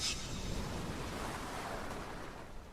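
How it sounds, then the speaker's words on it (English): Waves break on a barren shore as a continuous rushing wash, with wind mixed in, and the surf stays fairly steady and moderately loud throughout. "The waves break upon the barren shore."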